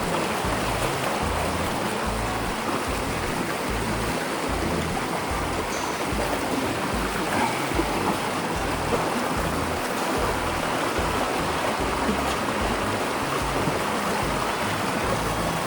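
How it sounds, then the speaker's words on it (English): Clean stream water flowing steadily nearby, a constant rushing burble with low churning, on a grouse and trout outing, with no talking. "this is nice, clean, flowing water here"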